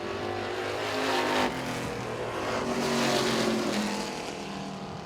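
A race car in a heat race at Baer Field Motorsports Park, the number 33 machine, roars across the finish line, engine droning at a distance and swelling briefly as it passes amid a faint track ambience.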